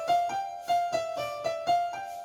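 Electronic keyboard sounding a wrong note during a transpose lesson: a steady synth tone re-struck about six times in a quick, uneven rhythm, close and clear with no voice.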